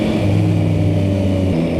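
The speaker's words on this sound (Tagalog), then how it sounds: "Tsaka yung grunt ng makina" A Yamaha XSR 900 motorcycle engine runs close by with a deep, steady grunting drone, its pitch holding level before dropping slightly near the end.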